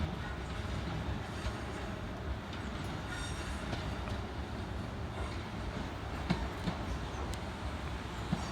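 South Western Railway train 450112 from Aldershot arriving at a station in the Thames Valley, heard as a faint, steady rumble of rolling wheels with occasional soft clicks and squeaks.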